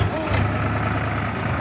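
A tractor engine runs at idle, a low steady rumbling chug held close and even for the whole short stretch.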